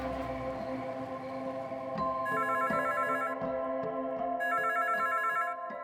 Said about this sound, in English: 2 days later, Daniel's phone rings.